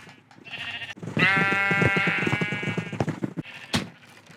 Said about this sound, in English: there are seriously so many black sheep on this island that it's actually a problem